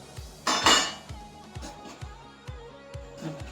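The metal lid comes off a pot of Onam-style moru curry with taro, giving a quick scrape and clatter, then light clinks of utensils against the pot, close and fairly quiet with no talk.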